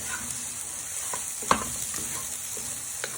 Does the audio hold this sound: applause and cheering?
no